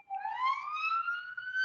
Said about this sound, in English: I can hear some sirens in the background there